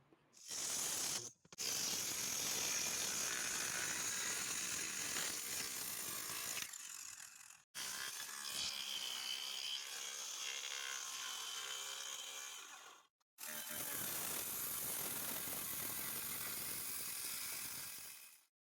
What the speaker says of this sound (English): Enjoy this wood cutting montage, because I sure as heck love filming it